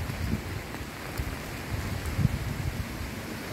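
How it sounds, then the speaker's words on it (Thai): Wind gusts on a dry evening outdoors, a steady low rumbling blow that rises and falls in waves, fairly loud and continuous with no voices. "ลมก็มาเป็น ระยะนะครับเนาะมาเป็นช่วงเป็นช่วงนะครับ"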